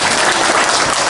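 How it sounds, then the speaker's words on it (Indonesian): Loud, dense audience applause fills the whole moment, steady and continuous clapping from a large crowd at a religious gathering, with no talk over it. "Tepuk tangan untuk Kang Henry."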